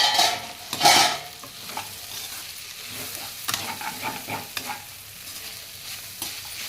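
Meal maker (soya chunk) curry with chikudu beans being stirred in a pan, a spoon scraping and clattering in short bursts over a soft sizzle, with one louder scrape near the start.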